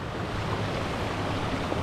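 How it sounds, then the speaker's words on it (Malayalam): A waterfall on a hiking trail in Oman: a steady, dense rush of falling water fills the short stretch at an even loudness, with no voices. "അടുത്ത വെള്ളച്ചാട്ടം."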